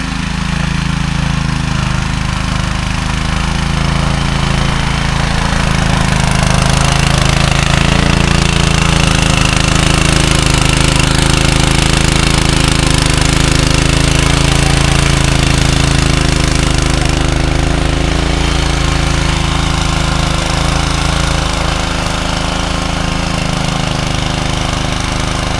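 A farm machine breaking up field soil runs continuously close by, a loud, rough engine drone with a rattling, churning tone that holds steady for the whole stretch without talk.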